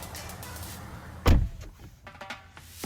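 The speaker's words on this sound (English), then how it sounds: "The doors are frameless, so the window does have to drop down when you open the door handle." A 2018 Tesla Model 3 door opening, its frameless window motoring down with a short whir around a sharp mechanical clunk, followed by quieter latch and interior rustling sounds.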